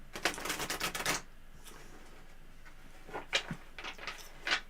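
Tarot cards riffle-shuffled in a rapid rattling burst up close, then a few softer scattered shuffles and card slaps after a quiet pause.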